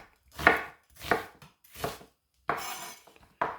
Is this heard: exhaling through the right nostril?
no